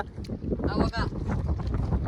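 Wind buffets the microphone at the seashore, a steady low rumble with gusty swells beneath people talking nearby.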